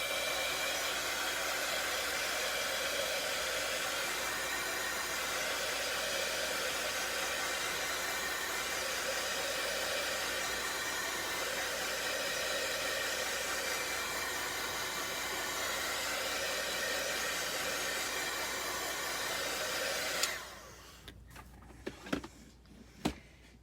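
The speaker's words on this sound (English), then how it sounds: "I'm going to heat set it but I'm going to make sure that I do not let the heat touch my stencil." A heat tool blows steadily over stenciled paint for about twenty seconds, a loud continuous rushing hiss, then cuts off, leaving a few light clicks and knocks.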